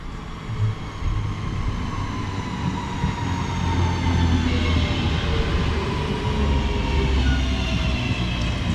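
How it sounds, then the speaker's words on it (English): A Northern class 323 electric train pulls into a station on the Stoke-on-Trent to Manchester Piccadilly line, a close, steady rumble of wheels and motor hum with faint clatter as it draws in, and no speech. "arriving in now is the slight delay 12:24 northern service from Stoke-on-Trent to Manchester Piccadilly"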